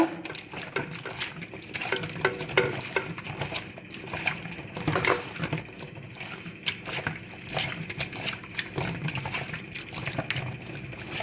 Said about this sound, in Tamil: கொத்தமல்லி தழை தயிர் இதை நல்லா மிக்ஸ் பண்ணிக்கிங்க